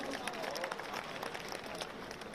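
Audience applause welcoming Mahipal Singh Makwana at a public gathering, a steady wash of clapping from a crowd heard at a distance, with some voices mixed in.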